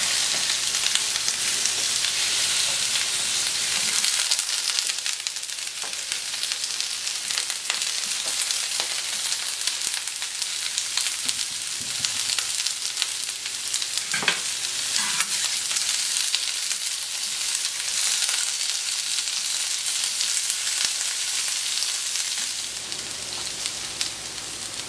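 Pre-cooked small potatoes fry on a hot plancha with a steady, dense sizzle that holds level for the whole stretch, with a few faint clicks and scrapes. No one speaks.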